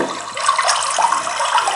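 Running water gushes steadily and loudly in a dense, continuous rush with no pauses and no voices.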